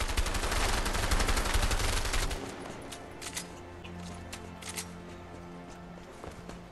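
Video game A Way Out: dense, loud burst of rapid automatic gunfire for about two seconds, then it cuts off into quieter ambience with a few faint distant sounds.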